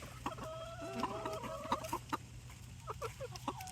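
Several chickens cluck and squawk nearby in a busy, irregular chatter, with short calls overlapping one another.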